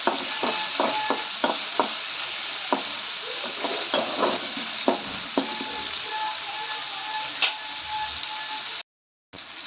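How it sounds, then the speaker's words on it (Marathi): Roasted peanuts fry in hot oil as a steady, close sizzle, broken by a run of sharp ladle clicks and taps early on and another later, with a brief dropout near the end and no talking. "शेंगदाणे तेलात कडक होईपर्यंत टाकून त्याला फ्राय करणार आहोत"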